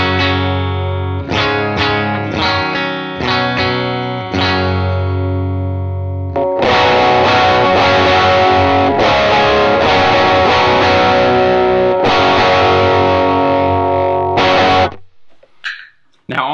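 An electric guitar runs through a pedalboard into a UA Dream 65 amp, playing clean chords first, then a brighter, louder boosted tone with the EQ pedal and 10 dB boost engaged, sustained strumming that cuts off near the end.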